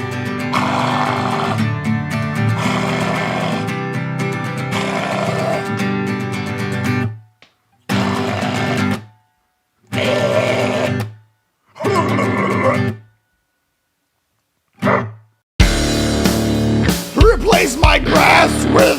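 A human voice imitates a caveman's deep, guttural scream in several loud, rough bursts separated by short silences, ending in a longer strained roar.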